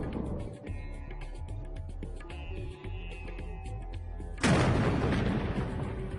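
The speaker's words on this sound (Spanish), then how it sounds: "Estas pequeñas explosiones se utilizan para dividir los paños en bloques de menor tamaño, colocando pequeñas cargas explosivas en los agujeros" Small explosive charges set in drilled holes crack quarry rock blocks into smaller pieces; a sudden loud blast with broad rumble bursts in near the end after a stretch of lower, busier background sound.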